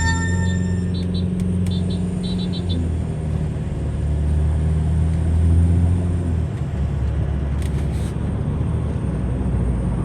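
Ford Everest Titanium with a low-power fault and stored trouble codes, heard from inside on a test drive: a steady engine and road rumble with a low droning tone that swells briefly near the middle.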